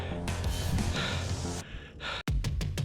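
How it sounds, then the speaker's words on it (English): A cyclist pants hard on a steep gravel climb in the Santa Monica Mountains, a run of loud, close gasping breaths over wind rumble, with no talking. "I'm panting"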